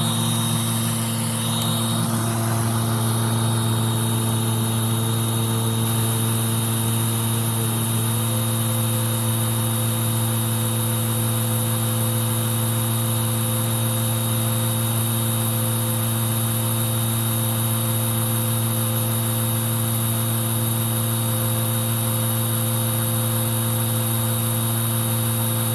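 A Filter Queen Majestic 360 vacuum cleaner with its power nozzle switched on runs with a loud, steady motor whine and hum that carries on unbroken throughout.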